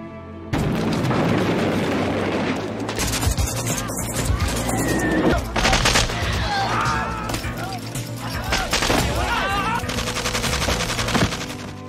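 Heavy gunfire in a firefight with dozens of Vietnamese soldiers near a fuel tank, loud bursts of automatic fire and booming shots layered over crashes and faint shouting voices, continuous and dense throughout.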